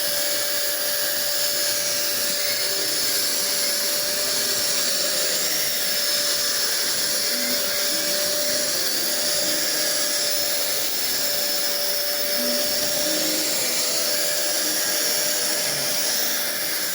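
An old vacuum cleaner with a thermal shutdown feature runs steadily and loudly up close, its motor whine holding a constant high pitch for the whole stretch without pause.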